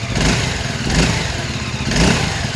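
A QJ ATX 250X, an affordable 250cc adventure motorcycle, revs its engine up close, with three rough surges rising and falling about once a second over a rattly idle, and no talking.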